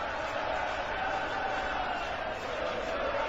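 A dense, steady crowd roar fills the hall as darts fans cheer for Suljovic at the World Matchplay, with a commentator talking over it.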